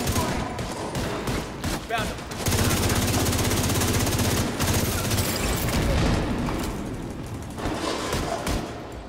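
Gunfire in the video game The Division 2 bursts in rapid automatic volleys with sharp single shots between them, loud and dense throughout, while a player talks over parts of it.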